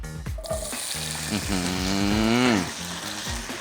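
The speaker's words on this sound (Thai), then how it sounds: "น้ำมันเริ่มร้อนแล้วนะครับ เราก็นำมันฝรั่งตรงนี้ลงไปผัดได้เลย" Diced potatoes stir-frying in hot oil, a loud, close, continuous sizzle with tonal clanking and scraping from stirring, under a voice talking.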